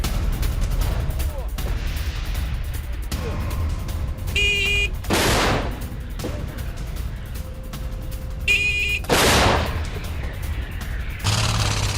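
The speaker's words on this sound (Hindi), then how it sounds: "यूक्रेनी जवानों ने होवित्जर तोप चलाई और होवित्जर से यूक्रेन ने युद्धाभ्यास किया है" Ukrainian soldiers firing a howitzer artillery gun during military exercises: two sharp, loud booms several seconds apart over a continuous rumbling background.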